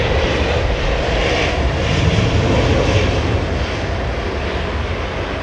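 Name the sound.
jet airliner landing at London Heathrow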